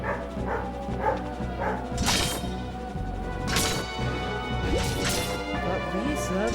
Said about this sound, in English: But Lisa, the dog's barking.